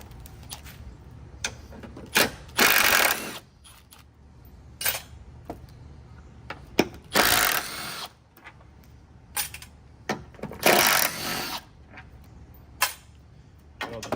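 Ratchet with a 10 mm socket backing out screws on a 2018-or-later Jeep JL headlight assembly: several short bursts of clicking ratchet strokes spaced apart, fairly close, with quiet handling noise between them.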